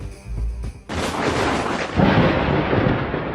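Thunder during a mountain storm: a loud close crack bursts in suddenly and rolls on as a long heavy rumble that swells again before fading slowly.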